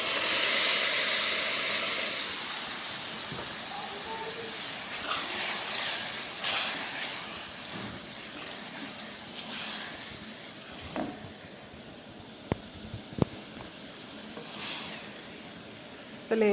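Dal tipped into fried masala in a hot pan, setting off a broad steady sizzle that is loudest at first and eases back, with a few faint clinks and stirring sounds near the end.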